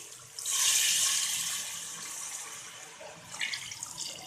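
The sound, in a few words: water poured into beef haleem pot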